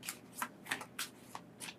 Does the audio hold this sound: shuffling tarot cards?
yes